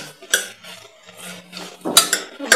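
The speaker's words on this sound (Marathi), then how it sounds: "आपण या बटाट्यांना या मसाल्याचं कोटिंग होईल तोपर्यंत हे छान हलवून घेऊया।" Potatoes being stirred through masala in a metal pot, with a spoon scraping and clinking against the sides in short bursts, close and fairly loud.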